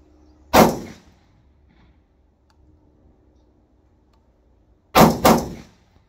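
Gunshots on a shooting range during firearm technique practice: one sharp shot, several seconds of near silence, then a rapid pair of shots, loud and close with short decays.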